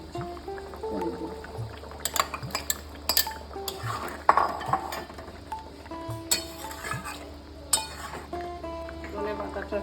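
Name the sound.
fried paneer being added to the pan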